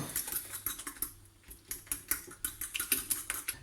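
Grated cheese is mixed and mashed for a potato, cauliflower and chicken gratin, making a quick series of close clicking and tapping strokes from a utensil in a dish, steady and rhythmic, with no one talking.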